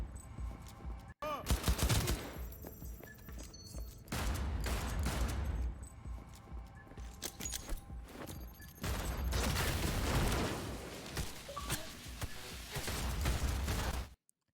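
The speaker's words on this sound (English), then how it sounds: "Now I'm gonna play this clip so you can hear the guns" Heavy gunfire from Cyberpunk 2077 gameplay: dense bursts and rapid volleys of shots roll through the whole stretch, loud and close, with brief lulls between intense fusillades.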